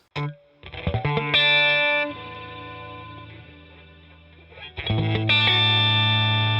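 Electric guitar chords strummed through distortion and chorus effects, the changes clumsy and uneven, with a gap of near silence and ragged buzzing as the next chord lands late.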